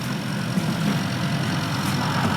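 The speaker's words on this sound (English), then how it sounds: "there's a fan there whirring away" An extractor fan in a loft-conversion en-suite whirs steadily with a constant low hum and broadband rush, close and unbroken, no talking.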